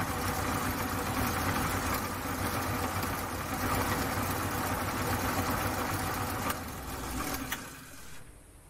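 Homemade Gingery milling machine running steadily in fourth gear, low range, at about 535 spindle rpm, giving a continuous mechanical hum and whir that holds even and close, then drops off abruptly near the end.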